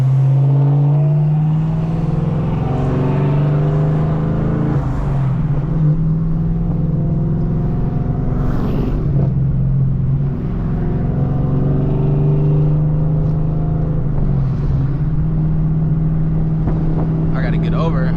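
Dodge Challenger with a V6 body carrying a Scat Pack engine drones steadily nearby from inside a moving car, a continuous low engine hum with mild swells, while people talk over it.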